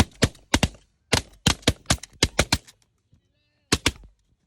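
Shotguns fire at geese during a hunt in West Texas, a rapid volley of about ten loud, sharp blasts in quick succession, a pause, then two more shots near the end.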